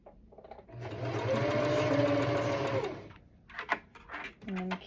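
A sewing machine stitches fabric for a swimsuit cover-up in one loud, steady whirring run of about two seconds, then stops, followed by short starts and clicks with speech mixed in.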